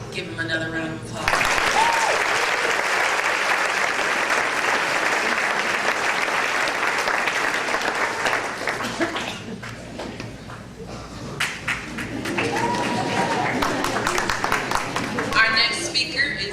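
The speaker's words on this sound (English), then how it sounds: "Give him another round of applause." Warm, lengthy applause from a seated audience at a graduation ceremony, many hands clapping steadily for most of the stretch with a short dip midway before swelling again, a speaker's voice briefly heard near the end.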